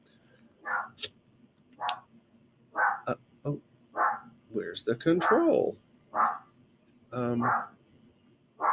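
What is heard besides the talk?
dog barking at a package delivery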